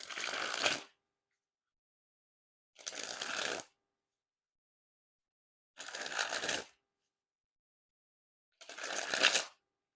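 Art of Play Cabinetarium playing cards being sprung from hand to hand, heard as four separate crisp, fluttering riffles under a second each, spaced evenly apart with silence between them.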